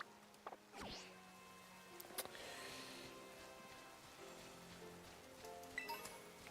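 Rain falls steadily in Pokémon Scarlet and Violet, a faint, even patter with scattered sharper drop ticks and a few soft game effects, and no voices.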